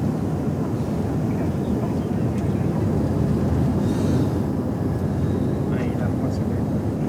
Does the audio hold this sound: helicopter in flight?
yes